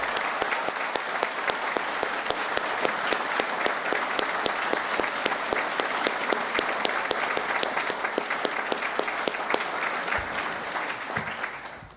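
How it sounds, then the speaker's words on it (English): Sustained, evenly paced applause from an audience at a celebration for cardiac arrest survivors, with crisp individual claps clearly audible throughout and a brief tail-off at the end. "Could we give them a round of applause"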